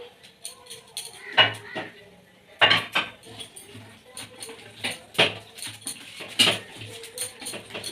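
A fish filling with coriander is mixed in a bowl, producing irregular clinks and scrapes of a utensil against the dish in short bursts, fairly close and moderately loud.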